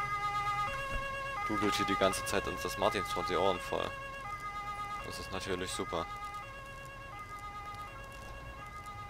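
A continuous Martinshorn police siren in Autobahnpolizei Simulator 2015 drones on in steady tones while someone talks over it in short bursts.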